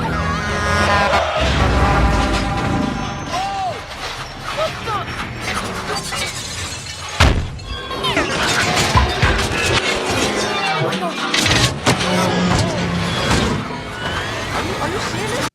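A movie car chase with stolen vans and crashes, busy and dense throughout, with sharp impacts and shattering crunches around the middle and steady score and effects underneath, no clear talk.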